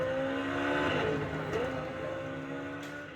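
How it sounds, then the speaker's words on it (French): A car engine pushed to full throttle, a strained, steady roar whose pitch climbs gradually as it accelerates, loud and close throughout. "Allez, mets les gaz à fond maintenant."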